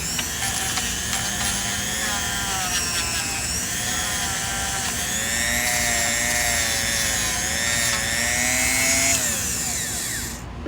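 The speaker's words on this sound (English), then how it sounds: "we're gonna polish it with a Dremel" Dremel rotary tool polishing lead, a steady high-pitched whine held close and loud throughout, its pitch wavering slightly as pressure changes, with no talk over it.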